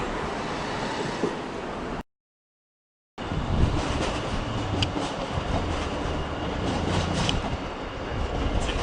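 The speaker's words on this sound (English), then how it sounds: "It is in fact a coupling service with the coaches on the back going to Augsburg." A coupled passenger train with coaches bound for Augsburg rolls into München Hbf, a steady rumble and wheel clatter with faint squeals, cut briefly by a gap of silence before the rolling noise resumes.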